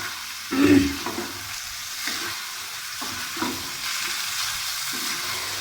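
Cooked, softened maash daal being stirred in a pan over a high flame, a steady sizzle broken by repeated scraping strokes of the spoon about once a second, close and without speech.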